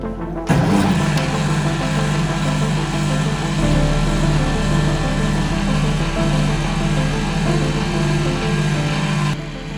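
A Liberty Engine generator kicks into motion and runs with a steady mechanical hum and whirring drone, holding a constant tone until it stops near the end.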